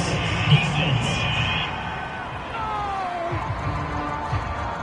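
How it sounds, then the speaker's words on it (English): Home crowd at a football game roaring and whooping in a stadium after a penalty call, a broad sustained wash of cheering with scattered shouts, fairly loud throughout. "This home crowd, they're happy with that call."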